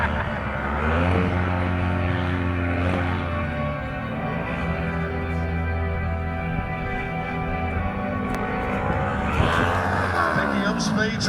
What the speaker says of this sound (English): trying to do a little bit of a burnout whilst on that front bumper. Drifting burnout